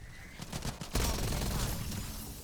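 Automatic gunfire cuts down a zombie in a Call of Duty zombies round on the Totenreich map, with scattered softer shots first, then a loud sustained burst of rapid fire that carries on to the end.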